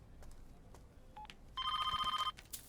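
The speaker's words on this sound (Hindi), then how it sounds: "फ़ोन बज रहा है" A telephone rings nearby in one short, pulsing electronic trill lasting under a second, clear above a quiet room with a few soft clicks before it.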